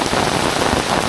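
Heavy monsoon rain pouring at the Matheran hill station, a loud, dense, continuous hiss of drops striking surfaces, steady throughout with nothing else over it.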